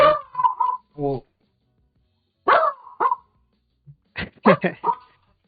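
A dog barks in short, sharp bursts in separate clusters with silent gaps between them, close and fairly loud, heard indoors during a card-game show.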